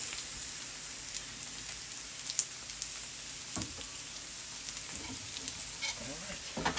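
Teriyaki chicken and vegetables sizzling and crackling on a hot Steelmade USA flat top griddle, a steady hiss with occasional pops and scraping clicks, no talking.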